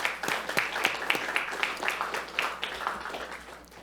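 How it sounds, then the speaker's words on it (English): A small group applauds at a county board of supervisors meeting, distinct individual claps standing out in a sparse, moderately quiet, uneven patter that slowly thins out. "let's please give an applause for all the contributions to our community"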